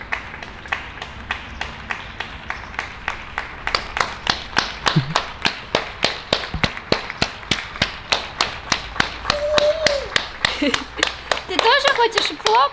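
Many neighbours clap from their windows at 8 in the evening. Steady, rapid applause carries on and builds, with crisp claps echoing from nearby buildings. Brief voices and a whistle rise near the end.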